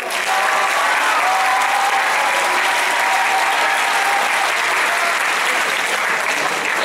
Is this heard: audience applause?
yes